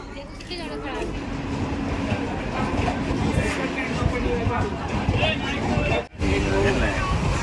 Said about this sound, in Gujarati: ફાઇનલી અમારી ટ્રેન આવી ગઈ છે